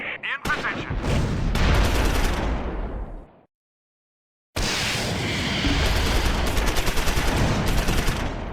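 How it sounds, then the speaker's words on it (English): Sustained bursts of medium machine gun fire from a World War II battle in Close Combat 4, loud and dense, cutting out abruptly to silence for about a second before resuming with another long rattling stream. "Becker's medium machine gun targets German infantry"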